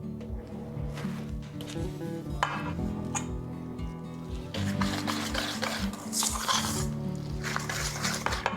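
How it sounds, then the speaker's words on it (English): Egg yolks whisked by hand into a mixture of brown butter and sugar for chocolate chip cookie dough, with a steady, busy stirring and scraping and light clinks against the bowl. "we can whisk this together for about a minute"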